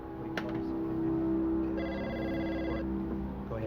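A telephone rings in a steady electronic tone with a brief warbling burst midway, loud and close, against a low background hum.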